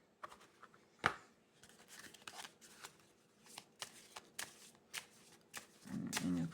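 Tarot-style cards are shuffled up close for a reading, giving soft riffling snaps and brushing flicks in irregular bursts, fairly quiet, with a faint voice murmuring near the end.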